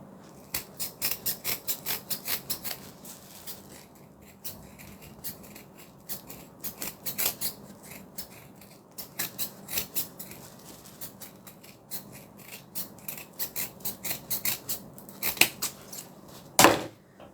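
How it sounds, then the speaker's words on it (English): Scissors trimming excess fabric from a sewn pocket, close rapid bursts of crisp snipping in uneven runs separated by short pauses, with a louder snip near the end. "now I'm going to trim off the excess material from the pocket"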